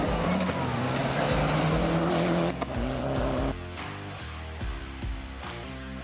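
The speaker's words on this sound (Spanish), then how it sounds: "Nicolás Tomboli y Juan José Sánchez, quienes con el Mitsubishi Lancer Evo 10 mandaron a placer en su clase" Mitsubishi Lancer Evo 10 rally car racing in a Paraguayan rally, its engine loud and continuous, with a change in engine note partway through as it shifts and carries on at speed.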